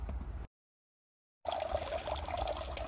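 Water is poured into an outdoor axolotl pond in Ireland during a water change. A short splash cuts off into a second of silence, then a steady, close gushing flow resumes.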